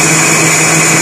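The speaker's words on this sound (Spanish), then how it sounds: "vamos a llevar todo a la licuadora." A blender whirs steadily and loudly as it purées softened tomatoes, guajillo chiles and onion, a dense continuous motor roar with no voices.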